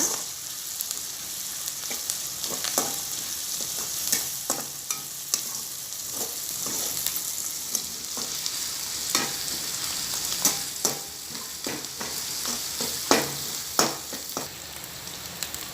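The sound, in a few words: stir-frying idli manchurian in a pan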